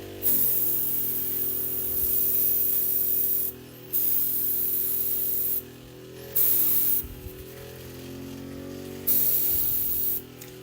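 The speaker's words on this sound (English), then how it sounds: "Just tighten that spray a little bit." Airbrush spraying paint onto a Warhammer miniature, a steady close hiss in several long bursts separated by short pauses, with a faint hum running underneath.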